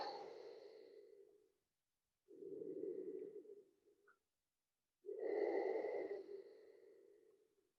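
Three slow, deep breaths are drawn and released during a liver-detox yoga session, each a soft, close airy rush separated by short silences, with no talking.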